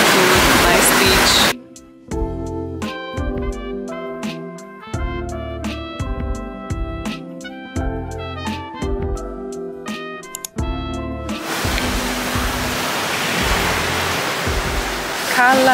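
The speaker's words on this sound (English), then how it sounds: "And the most beautiful beach I've ever seen" Surf washes loudly onto the beach at Cala Luna, Sardinia, in a brief burst at first. Music then plays over it before the waves return for the last few seconds.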